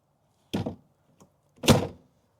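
An RV entry door fitted with a new keyless lock swings shut and latches, giving two solid thuds about a second apart with a faint click between them and no voices.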